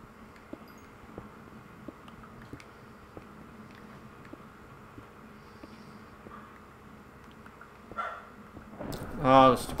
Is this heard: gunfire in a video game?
no